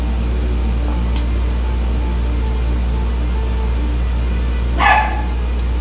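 Daisy the dog gives a single sharp bark near the end over a steady low hum, with a fainter yip earlier and no talking.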